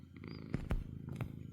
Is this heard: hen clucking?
no